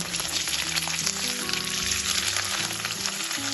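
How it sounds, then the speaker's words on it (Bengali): Paneer cubes sizzle continuously as they are turned and fried in hot mustard oil in a kadai, with a dense, even crackle under background music. "পনিরগুলো উল্টে পাল্টে ভালোভাবে ভেজে নেব"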